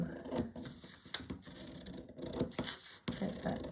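Scissors cutting across the top of fabric for doll clothes, a quiet, close series of crisp snips and scratchy rustles with short gaps between strokes.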